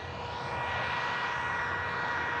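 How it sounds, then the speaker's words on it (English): A tractor's reversed cooling fan roars in a loud, steady broadband rush, a constant blowing drone with no talk. "This fan on the tractor just reversed."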